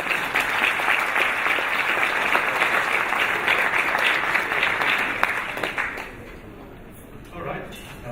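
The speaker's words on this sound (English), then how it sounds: "So another big round of applause." Sustained audience applause at a JavaScript conference talk, loud and steady for about six seconds before fading out into quiet room noise.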